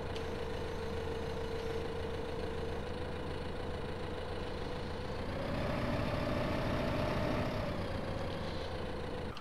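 A tractor engine idles in Farming Simulator 15 with a steady, continuous low drone that swells slightly in pitch and loudness midway before settling back, with no talking.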